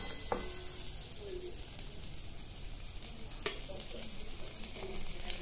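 Green chillies frying in hot oil give a steady, close sizzle throughout, with a few sharp spatters and a louder crackle midway, and no voices.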